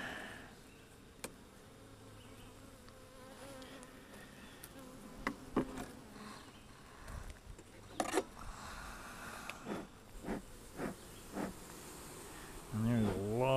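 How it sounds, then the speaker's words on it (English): Honeybees in a hive buzz in a dense, low hum, with sharper individual buzzes flaring up close now and then. "there's a lot of bees up in this second box"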